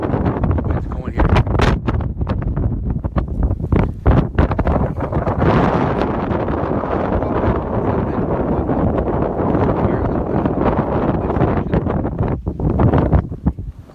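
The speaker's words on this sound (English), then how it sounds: "Wind's going here." Strong wind roars across open ground beside Highway 1806 near a National Guard barricade, loudly buffeting the microphone in sustained gusts with sharp rumbling bursts early on.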